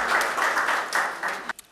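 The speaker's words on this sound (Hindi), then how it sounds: "जोरदार तालियों से स्वागत करें सर्जन शीतल जी का।" An audience at a Hindi poetry evening honoring martyrs claps to welcome a poet, a short burst of dense applause that tapers and stops abruptly after about a second and a half.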